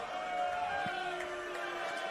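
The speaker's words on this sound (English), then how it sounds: "This crowd is loud." Loud, slightly hostile crowd at a Pro Wrestling Australia cage event, a steady close roar of voices and shouts filling the whole stretch with no break.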